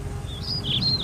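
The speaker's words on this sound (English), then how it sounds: "I can hear the birds chirping." A short, high bird chirp twitters briefly over low background rumble, faint and somewhat distant.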